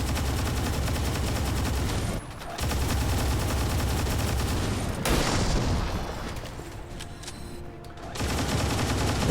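Sustained gunfire from the strategy video game XCOM Long War 2, a dense, loud fusillade of rapid shots that runs almost continuously with a couple of brief drops in intensity.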